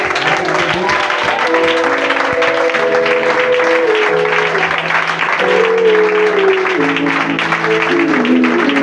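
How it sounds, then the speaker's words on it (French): Applause from a church congregation welcoming a guest speaker, loud and continuous throughout, with sustained organ or keyboard chords playing underneath. "je voudrais très respectueusement honorer le docteur Edwin Stewart sous vos acclamations, s'il vous plaît"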